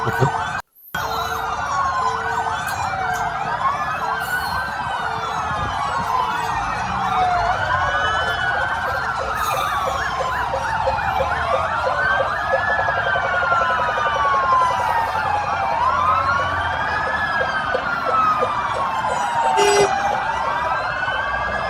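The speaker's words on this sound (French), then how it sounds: "les ambulances en partance de Beyrouth vont directement sur le sud" Several ambulance sirens wailing at once, overlapping rising and falling tones from a procession of ambulances leaving Beirut for southern Lebanon, loud and continuous for the whole stretch.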